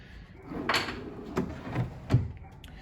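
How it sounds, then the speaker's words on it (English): A full-extension wooden drawer in a newly built aquarium stand slides open on its side rails, giving a few short knocks and a longer sliding rumble, close and moderately loud with no talking. "if you pull a little harder, it's actually a full extension drawer."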